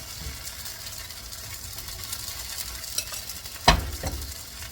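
Hot water cornbread batter patties frying in a hot pan on high heat, a steady crackling sizzle throughout with a sharper splattering burst near the end as more batter drops in.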